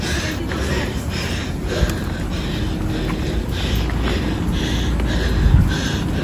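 Heavy, rhythmic panting from a person climbing steep steps at a grotto in Bamban, Tarlac, close to the microphone, with repeated breaths over outdoor wind rumble and a louder gasp near the end.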